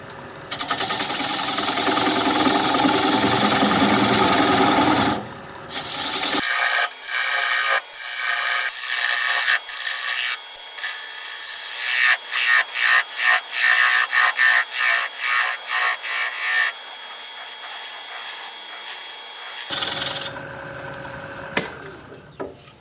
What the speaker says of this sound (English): I'm just going to take this 3/8 inch standard grind bowl gouge and start removing the tenon.